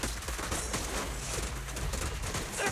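Gunfire in the mobile video game Zenless Zone Zero, a dense continuous barrage of shots and impacts mixed with game effects, loud and sustained throughout with no talking.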